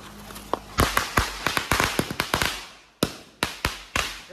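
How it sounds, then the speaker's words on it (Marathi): Firecrackers go off during a Ganpati immersion, a rapid string of loud, sharp bangs close by, followed after a short gap by a few more scattered bursts. "तुमचा नाना हा फटाके फोडत आहे"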